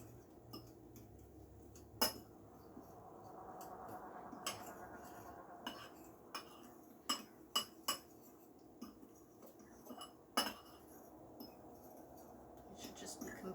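Banana muffin batter being mixed with a fork in a bowl, a sparse run of light metallic clinks and taps against the bowl at irregular intervals over a quiet background, with soft talking now and then.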